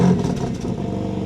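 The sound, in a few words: BMW M2 engine starting by remote start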